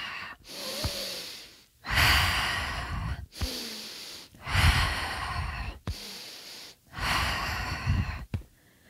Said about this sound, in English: So keep going here with the breath.